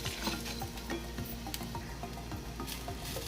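Tempering for ridge gourd chutney sizzles and crackles in a hot pan, a steady close-up frying hiss with soft stirring scrapes and no talk.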